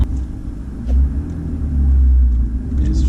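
A car with a manual clutch pulls away with a jerky, clunky engagement: a steady low engine rumble swells near one second and again around two seconds, close and unbroken, with no talk.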